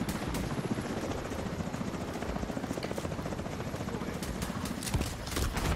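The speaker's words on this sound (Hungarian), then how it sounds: "Letett a helikopter egy tankot." In a video game, a helicopter hovers to drop off a tank, its rotor chopping in a fast, steady rhythm that stays loud and close throughout.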